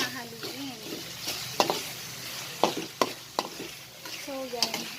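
Ground beef and sliced hotdog stirred in a pan for macaroni sauce, with soft sizzling under repeated sharp scrapes and clacks of the utensil against the pan, and a voice murmuring in the background.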